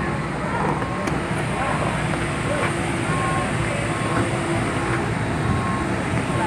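Airplane at an airport as Hajj pilgrims board a Saudi Airlines flight, a loud steady jet engine roar with broad rumbling noise filling the scene throughout, and faint background voices mixed in.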